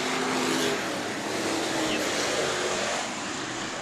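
Race car engines roar loud and steady on the Bakersfield Speedway oval, a continuous broadband drone with no gaps.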